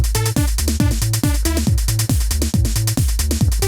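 A dense electronic drum loop from a Roland MC-909 groovebox thumps along with punchy kicks and snappy hits in a lopsided, swung groove, loud and continuous with no voices.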